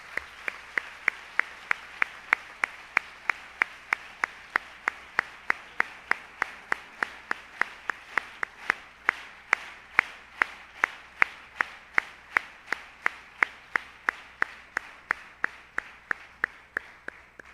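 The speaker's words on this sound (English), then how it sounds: "applause for all the 3 speakers" Rhythmic clapping from an audience at a university science talk session, sharp distinct claps in a steady, even beat, spaced about three per second and sounding fairly sparse and close.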